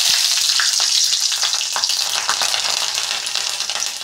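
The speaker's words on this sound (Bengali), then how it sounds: "আর 2-3টে কাঁচা লঙ্কা ফোড়ন" Green chillies and kalonji hit hot mustard oil in a kadai, giving a loud, steady, close sizzle of frying that carries on without a break and with no voices.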